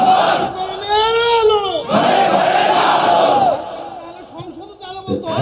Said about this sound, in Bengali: জোরে তাকবীর দেন একটা। তাকবীর